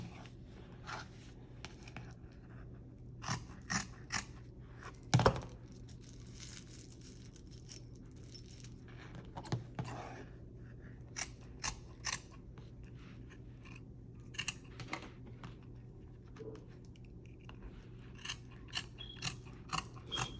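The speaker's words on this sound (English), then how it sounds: "So I'm going to go ahead and cut this pattern out" Fabric scissors cut a sewing pattern out of fabric for a sublimated bodysuit, producing quiet, close snips at irregular intervals with a soft hum underneath.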